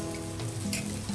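Ghee sizzling and frying in a hot pan while bobbatlu cook, a steady close crackle with soft spattering throughout.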